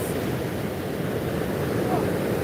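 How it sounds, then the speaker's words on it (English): Ocean surf at Palisadoes in Kingston, the morning after Hurricane Melissa, makes a steady, dense roar of breaking waves mixed with gusty wind noise on the microphone, holding fairly loud and even throughout. "So this is the ocean at Palisados."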